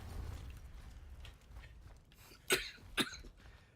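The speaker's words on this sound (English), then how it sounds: "Why am I coughing so hard?" Two sharp, fairly close coughs from a player character in a PlayStation game, spaced about half a second apart after a stretch of quiet, low mechanical background.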